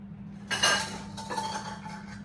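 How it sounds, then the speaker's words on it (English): A bowl being set out in a home kitchen while making pear cobbler bread: a clear clink and clatter of dishware, then a few softer knocks, close by with a faint hum underneath. "Now let me just get a little separate bowl."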